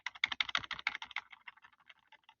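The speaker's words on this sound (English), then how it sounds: "bump this up a little bit with using my arrow keys until it looks the way I want" Arrow keys on a computer keyboard are tapped in a quick, fairly quiet run of clicks that gradually thins out and softens.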